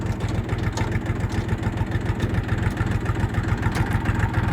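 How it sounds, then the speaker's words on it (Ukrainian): A Kentavr 244SX Chinese mini tractor engine runs with a loud, steady, rapidly pulsing mid-low chug, close by, without distinct shifting clunks standing out. "Кожна передача втикається дуже гарно. Задня, перша, друга, четверта, третя, все просто суперово."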